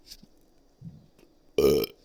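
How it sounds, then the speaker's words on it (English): A single loud, close burp bursts out after a few quiet mouth noises and lasts about a quarter second, with no talking over it. "told you I've been burping"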